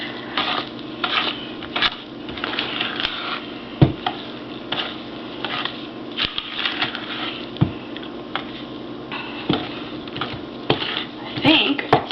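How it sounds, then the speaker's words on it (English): Cookie dough for peanut butter cookies being stirred in a bowl, giving steady scraping and soft tapping with occasional sharper knocks against the side, close and continuous. "I think it's stirred up nice"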